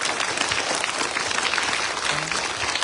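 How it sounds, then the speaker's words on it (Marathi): A crowd of schoolchildren claps loudly and steadily for their teachers at a primary school event where educational supplies are handed out, a dense continuous burst of applause close up. "एकदा तुमच्या सगळ्या शिक्षकांसाठी म्हणजे शिक्षक आणि मॅडमसाठी एकदा जोरात टाळ्या वाजवा"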